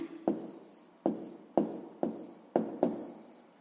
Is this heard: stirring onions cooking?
no